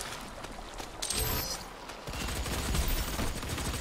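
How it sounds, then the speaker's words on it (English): Rapid gunfire in the Doom open beta multiplayer game, bursts of fast repeated shots that cut out briefly and then resume, fairly loud and continuous. "I hear gunfire."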